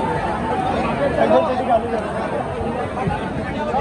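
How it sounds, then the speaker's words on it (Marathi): A dense babble of many voices fills the crowded Ganpati darshan queue in Mumbai, a continuous close murmur of overlapping talk with no single voice standing out. "गर्दी तर आहे फार"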